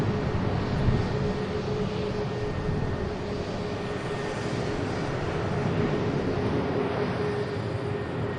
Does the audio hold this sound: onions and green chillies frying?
no